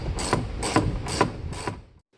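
Four quick, evenly spaced ratchet strokes tighten the top intake bolt on a 2016 Ram Rebel, close and crisp, followed by a brief pause and a faint final click.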